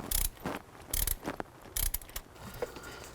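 Torque wrench tightening engine bolts on a 2000-2006 Chevy Tahoe during a knock sensor replacement, heard as four or five short bursts of ratcheting clicks spaced by brief pauses, close and fairly loud with no speech.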